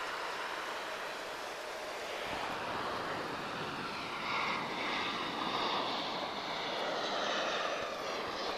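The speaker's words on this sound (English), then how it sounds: "A321, just about to arrive from Air France, 1194, arriving from Paris Charles de Gaulle." Air France Airbus A321-212 arriving at Lisbon Airport from Paris, a broad continuous jet roar that swells and holds loud for several seconds, with wind noise over the microphone.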